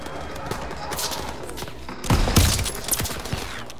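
Gunfire in Call of Duty WW2 during an ambush mission, rapid automatic bursts and sharp shots at moderate distance with a louder volley midway, under game background noise.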